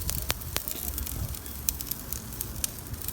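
A T-bone steak sears on a hot grill, giving a steady close sizzle with sharp crackling pops scattered throughout.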